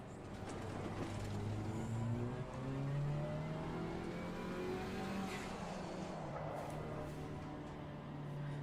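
Audi GT4 race car with a 300-horsepower inline-four engine, racing in Assetto Corsa Competizione, drones steadily with harmonic revving that climbs and falls through gear changes, loud and continuous with no talk.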